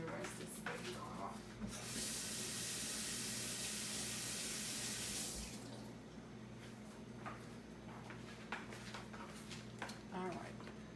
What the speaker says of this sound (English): Let me rinse this basil off.